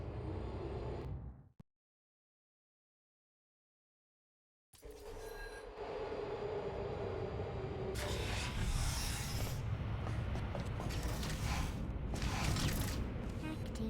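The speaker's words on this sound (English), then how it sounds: "This elevator will get us back on track, but it will take a while for us to get back to the surface." Elevator machinery in the Portal: Revolution game: a mechanical hum cuts to silence, then a steady rumbling, clanking ride builds and continues loudly with rattling metallic accents.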